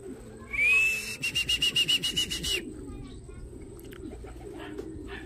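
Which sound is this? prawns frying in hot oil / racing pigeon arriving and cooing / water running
racing pigeon arriving and cooing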